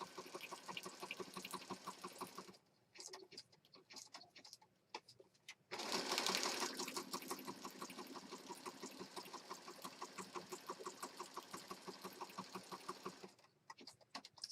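A sewing machine stitching black thread through the pages of a junk journal, rapid mechanical clatter running in bursts with short pauses and a stop near the end, close and fairly loud.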